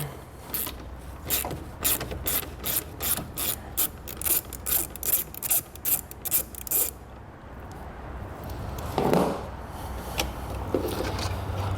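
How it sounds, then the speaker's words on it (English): A 15mm socket on a ratchet loosening a nut on a power post in the engine bay of a 2018 Dodge Journey, giving a rapid run of close, loud metallic clicks in short bursts, then quieter handling noises. "So we'll remove this nut using a 15mm socket."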